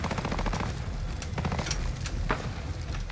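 Call of Duty Modern Warfare's DSA-58 OSW rifle is tap fired in rapid single shots, a loud, continuous string of close gunfire cracks layered over a dense, busy battle din.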